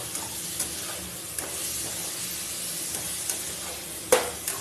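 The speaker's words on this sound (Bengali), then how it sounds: "শুধু এখন ভালো করে একটু নেড়ে চেড়ে নিলেই উচ্ছে কুমড়ো বটি রেডি হয়ে যাবে।" Bitter gourd, pumpkin and bori are stirred in a frying pan, a soft continuous sizzle with periodic spatula scrapes and one louder clack near the end.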